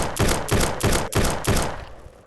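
Rapid gunfire in the video game Block Strike, a burst of about seven loud, evenly spaced shots in close succession, fading off at the end.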